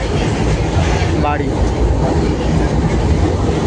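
A delayed, crowded commuter train rumbles steadily across a bridge with a continuous rolling clatter of wheels on rails, close and loud, while a voice speaks briefly over it.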